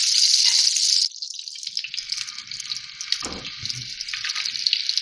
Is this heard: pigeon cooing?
no